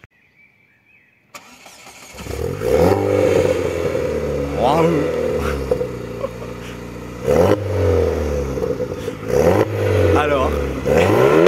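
A tuned 450 hp Opel GT engine cranks and fires after a quiet start, then settles into a loud, rumbling idle punctuated by several sharp revs, with excited voices reacting over it.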